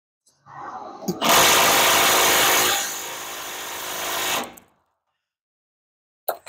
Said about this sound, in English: I'm just going to start taking bolts out and hope for the best.